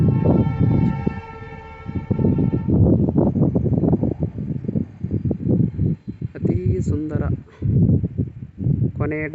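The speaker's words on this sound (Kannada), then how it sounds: "ಪ್ಯಾಸೆಂಜರ್ ಟ್ರೈನ್ ನೋಡ್ರಿ ಇದು" A passenger train rumbles steadily nearby in North Karnataka, carriages rolling past with a loud, continuous roar, while someone talks over it and a horn sounds briefly.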